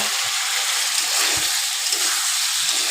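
Pointed gourd is frying in oil with tomato and ginger in a pan, making a dense, steady, loud sizzle and crackle close by, with no break and no voices.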